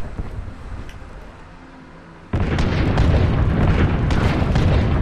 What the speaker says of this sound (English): That barrage is amazing.